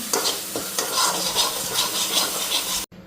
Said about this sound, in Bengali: এখন মাছটা ধরাই নিই।